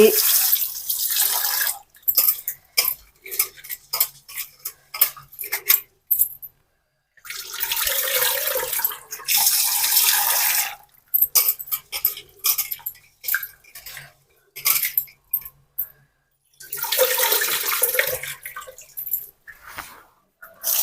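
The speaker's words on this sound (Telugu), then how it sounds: "ఈ కప్పుతో 1 కప్పు బియ్యం అయితే పోసానండి. అవి 1కి 2 సార్లు శుభ్రంగా కడిగి" Bursts of sloshing water and swishing rice grains alternate with pauses, a close scrubbing and rinsing in a bowl repeated several times.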